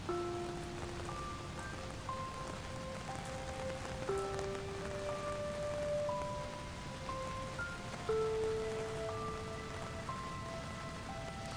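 Steady rain ambience from the video game Doki Doki Downpour, a continuous soft patter of drops under a gentle melodic tone pattern, even and moderately loud throughout with no speech.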